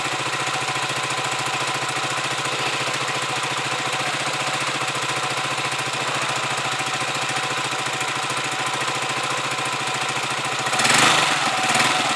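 A Huoniao HN125 motorcycle engine idles steadily with an even, rapid putter while warming up, then a brief rise in revs near the end.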